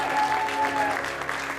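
Theater audience at a live improvised musical comedy show applauding in response to a question, steady crowd clapping with a faint tone running beneath.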